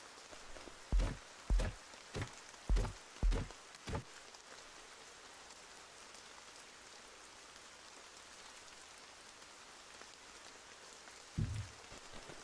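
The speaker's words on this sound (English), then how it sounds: "I like the rain noise. It's actually very calming." Steady soft rain patter in a video game fills the background, with a few heavier thumps near the start and one later, and no voices.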